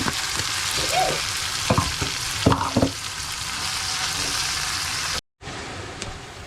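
Blended tomato sizzling and frying in a hot pan, a continuous crackling hiss broken by a few stirring scrapes and knocks, close by, with a brief cut near the end.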